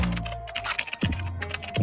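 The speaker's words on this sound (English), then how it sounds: "it's a laser keyboard that you can actually type on any surface" Rapid soft tapping from typing on a laser projection keyboard, which projects keys onto a flat surface. Quick irregular clicks come close and steady over low background sound.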